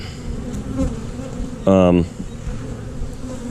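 Honey bees buzz at a beehive with yellow pollen coming in, a low steady hum throughout and a loud close buzz as one bee passes near for about a third of a second.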